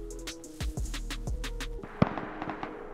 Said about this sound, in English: I did hear a gunshot then